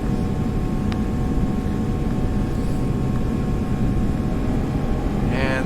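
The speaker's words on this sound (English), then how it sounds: "And there go our flaps." Airliner cockpit in flight during a climb with flaps moving, a steady loud broadband engine and airflow roar with a faint whirring mechanism near the end.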